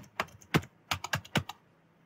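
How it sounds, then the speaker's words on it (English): Password being typed on a computer keyboard, six or seven distinct close keystrokes in an uneven rhythm, alone in a quiet room. "I'm going to remove this and type my password"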